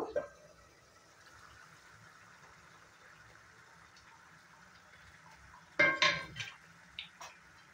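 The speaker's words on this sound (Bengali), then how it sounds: "ঢাকনাটা তুলে দেখে নেব" A cooking pot lid lifted during an egg masala, a short metallic clank and rattle near the end after a quiet simmering stretch, with one brief clink just after.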